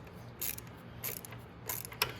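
Ratcheting metallic clicks from a wrench tightening the exhaust bolts on a Maddog scooter during an exhaust gasket change, coming in three short bursts at close range over faint background hum.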